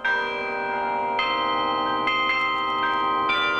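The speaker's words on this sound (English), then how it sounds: "ring the 65 bronze bells of the Williams Carillon" Bronze carillon of 65 bells in Williams Tower ringing out during a holiday festival, with several clear struck tones overlapping and sustaining, fresh strikes arriving every second or so.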